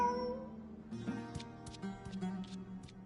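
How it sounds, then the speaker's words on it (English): A cat meows several times in the Genshin Impact video game, with short distinct calls over soft game music and ambience, fairly close and clear. "Who's a good kitty?"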